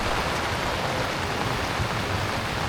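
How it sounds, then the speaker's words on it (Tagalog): Heavy rain pours onto a brown trekker tent while camping at the foot of Mount Arayat, a dense, loud, unbroken roar of drops close by with no talk. "At lumakas na naman po ang ulan."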